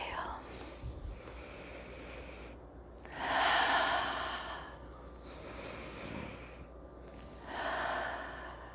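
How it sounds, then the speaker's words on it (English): Slow, deep inhales and exhales during a gentle chair yoga class, two long breathy swells rising and falling over a steady background hiss. "we're going to inhale, lift up, and exhale down"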